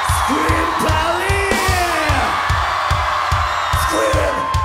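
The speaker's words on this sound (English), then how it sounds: "Scream, Polly" Concert crowd at a show on the 2007 European tour screaming on request, many voices yelling and whooping over a pounding steady beat from the band, loud and continuous.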